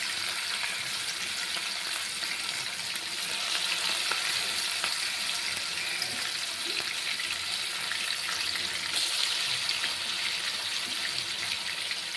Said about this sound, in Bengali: এবার চিকেনগুলো একে একে ভেজে নিব।